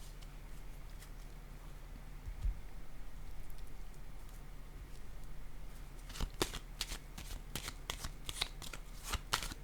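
Tarot cards are handled and one is laid down on a surface during a reading, with soft rustling and a few light slaps and flicks over a low steady background hum.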